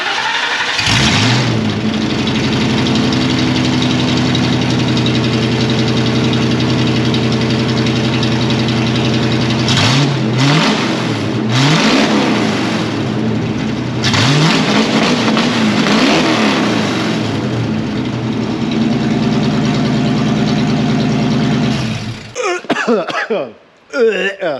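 A loud straight-piped Ford 302 V8 with stock headers in a Lincoln Mark VII LSC idles with a raw, rumbling roar, revving up several times with sharp bursts before cutting off abruptly near the end.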